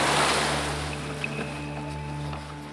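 A motorized pirogue, turned crosswise in a river current in Suriname, drones with a steady, strained engine hum under a broad rush of water, continuous and fairly loud throughout.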